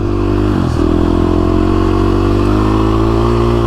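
A KTM 350SX-F dirt bike climbs a steep desert hill, its engine loud and close with a steady, throaty drone and a brief dip in revs before it pulls hard again.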